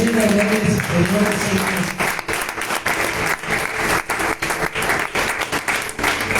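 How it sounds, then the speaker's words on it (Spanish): A church congregation breaks into sustained applause that rises after a brief sung or spoken passage and keeps going steadily. "Dale un fuerte aplauso a Dios"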